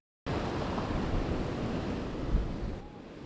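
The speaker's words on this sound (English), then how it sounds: "Waves crash into the Galveston seawall." Storm waves from Hurricane Ike crashing into the Galveston seawall: a loud, continuous roar of surf and wind with a heavier surge near the end before it eases.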